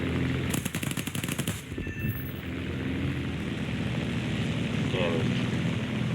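Guns of a P-38L fighter firing in the War Thunder flight game, a rapid loud burst of automatic fire lasting about a second, followed by steady engine and wind drone.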